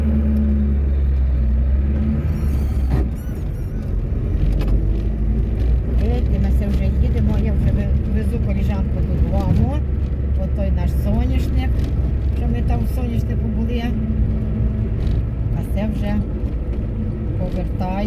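Car driving out of a rural village, a steady low engine and road rumble running throughout with people talking over it.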